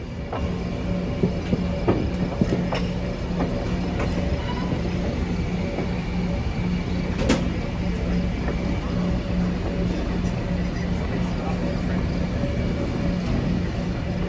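An excursion train hauled by steam locomotives 765 and 358 rolls along the rails, a continuous loud rumble with faint clicks and rattles, heard from on board with no talking.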